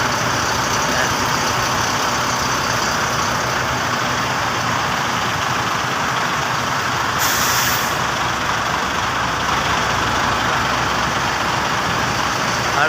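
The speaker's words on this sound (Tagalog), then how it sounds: "Itong mga bus na nakaparada rito" Parked buses idling at a bus parking area in Tao, Philippines, a steady loud diesel rumble with constant engine drone and a brief hiss of air brakes partway through, no talking.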